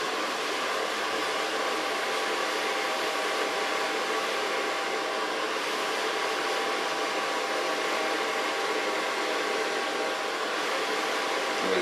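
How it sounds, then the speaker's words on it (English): A hair dryer runs nonstop while long hair is blow-dried with a large brush, a steady, loud, airy roar that holds an even level throughout with no talking. "with a large brush I'm going to blow dry the hair, starting off on the longest side"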